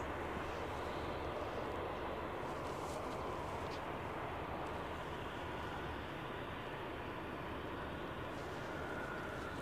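A British Airways aircraft at Edinburgh airport, heard as a steady, broad jet engine roar that holds evenly throughout at moderate distance.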